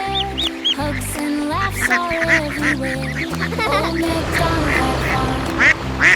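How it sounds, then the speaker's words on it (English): Ducks quack repeatedly and loudly, overlapping one another in a busy, close chorus, with occasional higher calls and background music. "Look at our duck friends."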